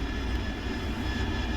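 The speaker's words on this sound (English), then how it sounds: "I'm actually surprised the engine's still running." Steady roar of a Harrier AV-8B jet engine running in the DCS flight sim, a continuous low, dense drone at constant level throughout, with no talking.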